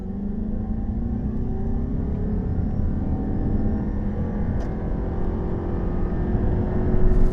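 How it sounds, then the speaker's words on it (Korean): A 2024 Toyota Prius PHEV pulls away from a standstill, giving a steady broadband road and drivetrain drone with a faint rising whine. The level holds fairly even and swells slightly near the end, with no talking. "자, 그럼 이번에는 프리우스 PHEV 발진 가속 성능 볼까요?"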